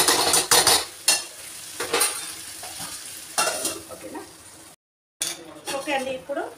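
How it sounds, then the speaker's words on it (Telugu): Chopped tomatoes tossed into a hot pan over cooked ginger-garlic paste for egg tomato curry, with bursts of stirring and sizzling frying, utensil scrapes against the pan, and someone talking between strokes. "ఇప్పుడు కట్ చేసి పెట్టుకున్న టమాటాలు వేసుకోవాలి."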